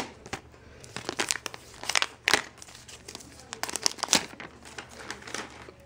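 Plastic wrap crinkles and tears as it is pulled off a refurbished Apple TV's packaging, loud close rustling bursts in an irregular rhythm, with a voice speaking briefly.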